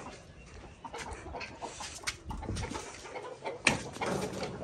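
Backyard hens cluck and squawk near pigeons, a scattered run of short calls building to a sharper burst near the end, close and moderately loud outdoors, with no talking.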